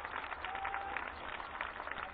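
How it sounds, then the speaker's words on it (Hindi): Steady crowd applause at an outdoor Dussehra celebration in Delhi, a dense continuous patter of many hands clapping at moderate distance. "तालियों के साथ अभिनंदन"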